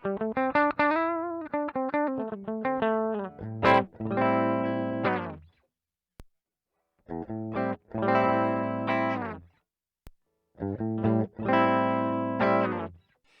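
Electric guitar played through a Sonicake Twiggy Blues pedal with its speaker emulation switched on gives loud, full chords and picked phrases in three bursts, with short silent gaps between them and no talking.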